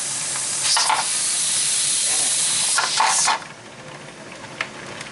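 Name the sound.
pressure canner steaming and hissing while canning green beans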